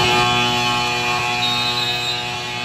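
A loud, continuous electronic game buzzer at the end of a basketball game blares steadily for the whole stretch, harsh and unbroken, slightly fading toward the end.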